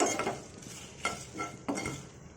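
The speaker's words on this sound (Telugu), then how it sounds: "ఇది కూడా సేమ్ వేయించుకోవాలి చూసుకొని" A spoon stirs ingredients being dry-roasted in a pan while making a sesame and coconut spice powder, three soft scraping strokes spaced about half a second apart, quiet and close.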